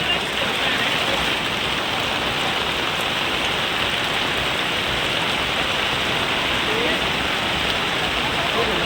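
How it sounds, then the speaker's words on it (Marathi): Steady, dense rain pours down outdoors near a lemon tree in the village of Bulgaon, a continuous broadband hiss with no break and no voices over it. "बुलगावरात पाऊस चालू झाला आहे"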